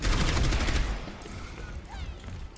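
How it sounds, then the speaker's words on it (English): Gunshots in the competitive video game Overwatch on the Blizzard World map, a loud rapid burst of firing that fades into softer game effects and faint background sounds. "Oh, nice shot, dude."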